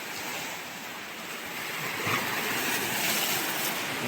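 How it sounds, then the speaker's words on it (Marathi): Large ocean waves roll and break on Kasheli beach in a continuous roaring surf wash that swells slightly louder toward the end, with some wind noise and no talking. "लाटा तशा मोठ्याच आहेत ह्या बघा"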